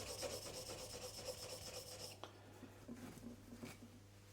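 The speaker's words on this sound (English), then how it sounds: "Just chase the burr off." Steel chisel being worked on a sharpening surface to chase off the burr from a narrow edge, a steady close rasping rub for about two seconds, then lighter intermittent strokes.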